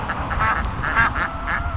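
Khaki Campbell ducks on a farm quack in a steady, repeated chorus of short nasal calls, close by over a constant rumbling background.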